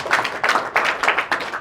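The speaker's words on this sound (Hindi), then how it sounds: "जोरदार ताली से स्वागत करें।" Audience clapping at a school prize-giving ceremony in a village setting, welcoming a Class 12 arts student and guests; steady crowd applause in several swelling waves, fairly close and continuous with no talk.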